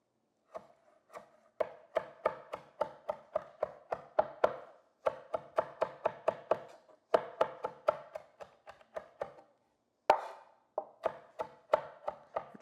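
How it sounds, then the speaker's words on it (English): A knife chops fresh herbs on a board for an Uzbek salad, in quick, even bursts of sharp taps with brief pauses between runs. The chopping is close and clear, with no talking. "And then we're gonna take our herbs. We're just gonna chop them up."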